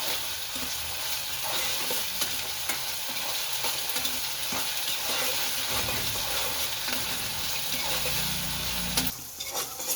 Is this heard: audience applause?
no